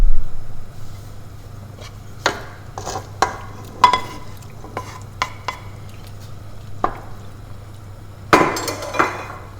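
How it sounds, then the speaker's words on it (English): A utensil scrapes the bottom of a cooking pot with thawed frozen tomatoes in it, giving scattered metallic clinks and short scrapes at irregular intervals over a low steady hum, ending with a louder burst of scraping. "we just want to scrape the bottom to make sure we're getting off anything that's stuck"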